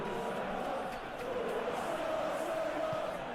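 Simulated stadium crowd in PES 2021 during a Champions League semi-final football match, a steady, dense roar of cheering that swells slightly and holds throughout without a break.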